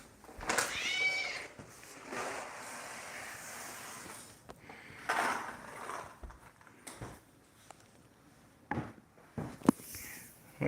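A pet tabby cat with a hooked tail gives a short meow, not very loud, over faint room noise with a few scattered bumps and rustles.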